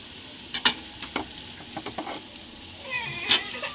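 A batch of chicken for a thin curry goes into hot spiced oil and sizzles, with a steady frying hiss and a few sharp clinks and scrapes of a spoon against the pan, close by and with no talking.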